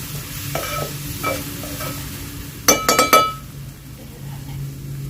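Drumstick pieces and onions fry in a pan as a spoon stirs them with light scraping strokes over a soft steady sizzle, then a short burst of clinks from utensils knocking the pan, with no voices.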